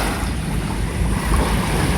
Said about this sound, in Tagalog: Medyo tahimik naman yung alon.